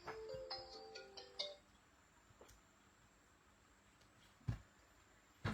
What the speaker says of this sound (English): That's my husband ringing.